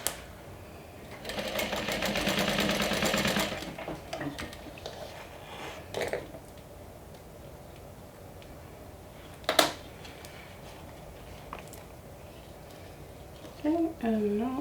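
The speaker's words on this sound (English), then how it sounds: "And I'm going to stitch down." A sewing machine stitches a vinyl panel, whirring in a rapid steady run for a couple of seconds, then stopping. Short clicks and handling noises follow, with brief bits of speech.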